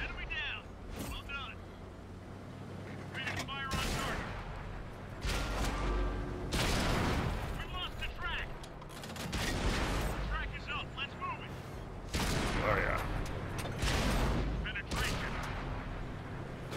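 Tank cannon fire from the World of Tanks video game booms out as several heavy blasts across the stretch, with engine rumble and game voice callouts between the shots.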